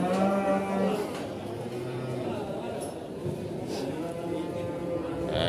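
Cattle moo repeatedly at a crowded sacrificial-cattle market in Pahingan, Winong Kidul, Pati, Central Java, the lowing calls standing out over a steady hum of people talking nearby.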